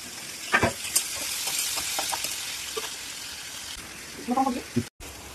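Vegetable bhaji sizzles in a pan under frying fish with a steady hiss, broken by scattered clinks and stirring knocks. A voice speaks briefly toward the end.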